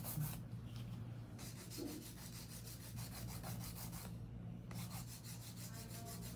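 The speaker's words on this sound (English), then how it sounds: "I always recommend hand filing when it comes to long nails." Hand filing of long coffin-shaped nails with a nail file, a steady continuous rasping scrape with short rhythmic strokes, close and fairly quiet, with no talk.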